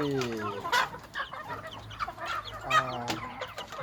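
Native Thai fighting chickens clucking close by, several birds calling in a steady, overlapping series of short harmonic clucks with no talk.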